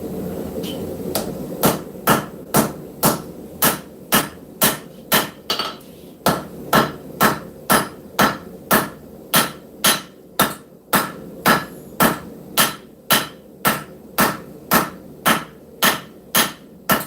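A hammer rings out in steady, evenly spaced blows on scrap steel being forged into a knife, with around twenty-five loud metallic strikes, a brief pause after the first handful, then continuous rhythmic pounding.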